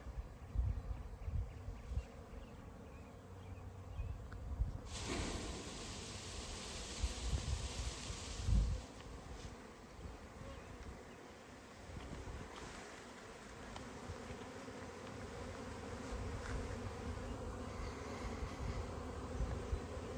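A honey bee swarm buzzes continuously close by, a dense droning hum that swells as individual bees fly past, with no voices over it.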